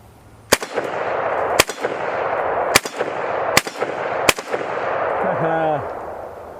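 Five sharp AK-47 rifle shots crack out one at a time at uneven intervals over a steady outdoor background, followed by a brief wavering tone near the end.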